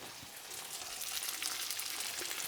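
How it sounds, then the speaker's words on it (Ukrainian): Quiet, steady sizzling of chicken liver frying in a pan, a soft crackling hiss that continues evenly throughout. "Печіночка смажиться."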